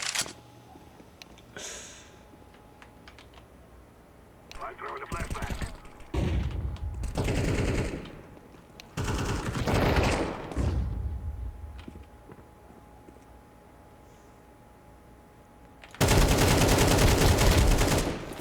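Bursts of rapid automatic gunfire in Counter-Strike: Global Offensive, several loud sustained volleys separated by pauses, with the longest and heaviest burst at the end.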